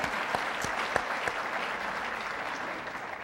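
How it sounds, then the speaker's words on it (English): An audience applauds at a fifth-anniversary celebration conversation with Governor Deval Patrick, a steady, dense clapping that holds at even strength for the whole stretch, with a few sharper individual claps standing out near the start. "I appreciate your applauding that."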